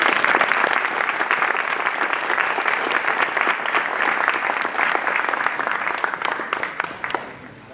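Sustained applause from an audience at an engineering prototyping competition after a group presentation, dense and steady clapping that tapers off in the last second.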